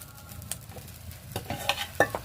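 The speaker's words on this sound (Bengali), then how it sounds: "দেখুন জলটা কেমন ফুটছে।" Water boils in a pot on the stove, making a low, continuous bubbling hiss close by. A few light clinks and knocks of a utensil against the pot punctuate it.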